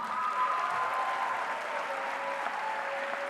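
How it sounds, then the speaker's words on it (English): Sustained audience applause for eighth graders at a middle school promotion ceremony, a dense even wash of many hands clapping, moderately loud and continuous throughout. "Another nice round of applause for everyone."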